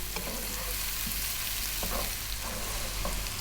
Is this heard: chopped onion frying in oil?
yes